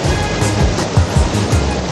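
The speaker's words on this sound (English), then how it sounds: "they harness the waterfall into a pipe" Water from a waterfall rushes through a pipe at a sesame butter mill in Juleh Village, Nahla Valley, northern Iraq, making a loud, steady roar with a deep rumble that never lets up.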